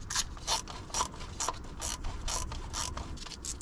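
A ratchet clicks in quick repeated bursts while tightening bolts on a leaking BMW during a seal replacement, the metallic ratcheting close and regular with no talk.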